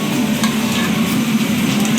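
Mutton frying and being stirred in a pan for Bengali mutton curry, a loud continuous sizzle mixed with scraping and stirring from a utensil, close and unbroken.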